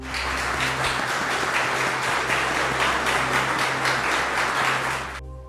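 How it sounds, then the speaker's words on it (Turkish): An audience at a memorial ceremony for fallen soldiers claps steadily for several seconds, a dense, loud wash of many hands that fades out abruptly at the end, with a low hum underneath. "kalksınlar ayağa da kalp ile alkışlayalım lütfen"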